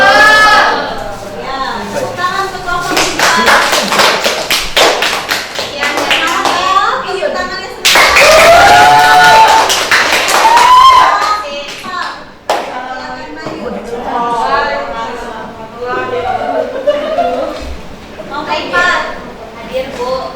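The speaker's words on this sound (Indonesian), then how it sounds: "tepuk tangan untuk kelompok 3" Schoolchildren in a classroom clap for group 3, bursts of applause alternating with lively chatter and children's voices throughout.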